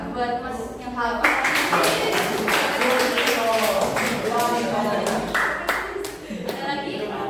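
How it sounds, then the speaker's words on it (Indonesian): Classmates in a classroom clap together for a student who answered from memory, a steady patter of hand claps running throughout with voices talking over it. "Mungkin teman-teman bisa tepuk tangan buat Mas yang hafal."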